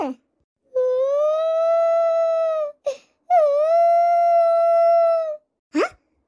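A dog howls in two long, drawn-out wails with a short yelp between them, loud and close, with quiet gaps around them.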